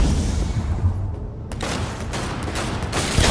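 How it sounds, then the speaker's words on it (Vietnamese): Gunfire in the Cyberpunk 2077 video game, a loud dense burst of overlapping shots and booms filling the whole stretch without pause. "Súng bắn chậm quá."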